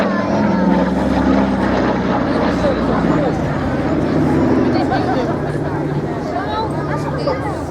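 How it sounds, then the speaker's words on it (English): A propeller transport aircraft, the type that dropped paratroopers and towed gliders, flies at the Biggin Hill Festival of Flight 2019 air show with a loud, steady engine drone throughout and an announcer talking over it. "this is the aircraft that not only dropped the paratroopers, but also towed the majority of those gliders."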